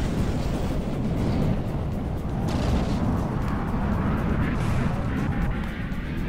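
Missile fire and explosions in the naval combat game From the Depths, heard as a dense, continuous rumble of blasts and booms that stays loud and steady throughout with no clear gaps.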